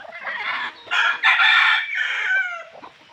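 A gamefowl rooster, an Oriental Black, crows and clucks close by, delivering several loud, harsh, tonal bursts in quick succession with short gaps between them, and no voices are heard.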